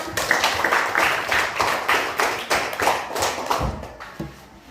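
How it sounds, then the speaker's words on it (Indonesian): Classroom applause for a student group, a small class clapping in uneven bursts close by for a few seconds before fading out. "tepuk tangan buat kelompok 6"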